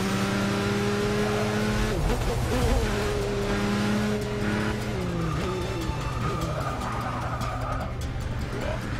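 A race car in Forza Motorsport 6 brakes hard; a loud sustained engine tone drops in pitch through the downshifts as the tyres squeal, with the game's engine roar steady throughout.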